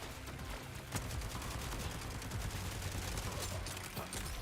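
Bursts of gunfire in the Borderlands video game crackle in rapid volleys with sharp individual shots, fairly quiet and continuous throughout, with no talk.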